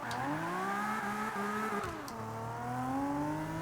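A Nissan Skyline 2000 GT-R engine revs in Forza 5, pitch climbing steadily, dropping sharply at a gear change, then building again in a continuous close, smooth drone with no talking.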